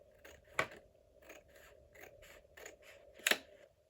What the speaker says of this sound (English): And this part I'm going to cut with scissors